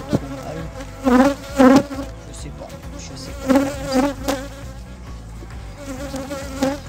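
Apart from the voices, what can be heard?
honeybees buzzing around an open hive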